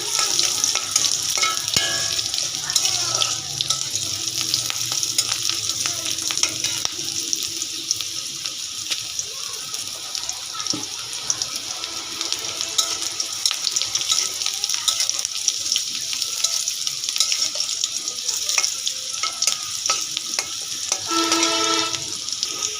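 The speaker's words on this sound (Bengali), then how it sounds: "পেঁয়াজটা আমি লাল করে ভেজে নেব।" Onions frying in hot oil for a Bengali water spinach stir-fry, a loud, dense, continuous sizzle up close with occasional stirring clatter and no talking.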